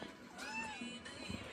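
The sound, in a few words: house cat meowing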